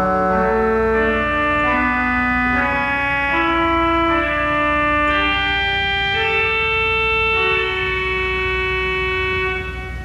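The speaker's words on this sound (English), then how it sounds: "While higher in the range, it sounds a little bit more like an oboe." Higher notes on the 16-foot fagotto reed stop of a pipe organ, a bassoon-style reed voice, play a slow, sustained, reedy melody of held tones that is loud, steady and free of any talk.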